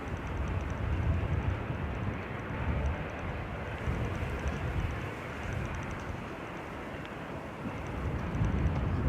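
Propeller airplane at Manchester Airport on a very windy day, following an EasyJet jet, gives a broad, continuous engine roar with gusty buffeting that swells and eases across the whole stretch.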